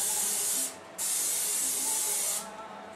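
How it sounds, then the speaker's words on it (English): Two bursts of vegetable cooking spray hiss from a can, a longer spray followed by a brief pause and another sustained spritz. "I like to use this vegetable cooking spray rather than oil"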